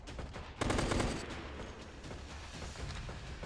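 Rapid video-game gunfire in a player-versus-player survival match, with a loud sustained burst of automatic shots up front, then continuing dense, rattling fire at a steady level.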